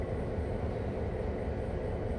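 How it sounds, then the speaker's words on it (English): A helper locomotive on an American freight train in a rail simulator game passes with a continuous, heavy rolling rumble that holds a steady level from start to finish. "as soon as that helper locomotive passes"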